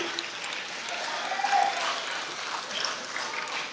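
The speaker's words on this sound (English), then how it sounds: "we want to give you a round of applause for being here." A dense, steady patter of applause from a crowd at a speech, continuous and moderately loud throughout with no pauses.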